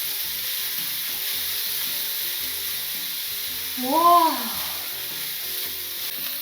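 Turnip cake ingredients, including Chinese sausage, pan-frying in a little oil with a steady, even sizzle throughout, and a short exclaiming voice rising over it briefly midway.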